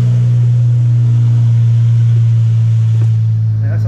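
A supercharged 3.6L Pentastar V6 engine fitted with a Ripp supercharger roars with a loud, steady low drone that barely changes, sitting close and heavy for the whole stretch.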